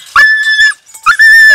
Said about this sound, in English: Unfortunately for the dog, it went into the trap.